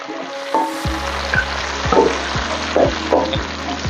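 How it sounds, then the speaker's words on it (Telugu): Onions and green chillies fry on a low simmer in a pan, a close sizzle broken by several distinct stirring scrapes and clatters. "సిమ్లో పెట్టి గోల్డెన్ బ్రౌన్ అయ్యే వరకు కూడా ఇలా ఫ్రై చేస్తూనే ఉండండి"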